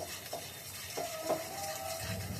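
A spoon stirs and mixes spices such as turmeric with a pinch of sugar in a cooking pan. Soft, faint scrapes sit over a low background sizzle.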